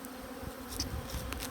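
Honeybees buzz at a hive during feeding with a protein patty, a steady close droning hum with small shifts as individual bees pass nearby.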